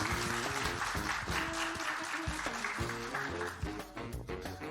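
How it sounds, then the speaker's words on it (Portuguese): An audience breaks into sustained applause welcoming a woman to the stage at a talk on AI and the future of work, with music playing loudly alongside the clapping throughout. "Palmas para Vanessa."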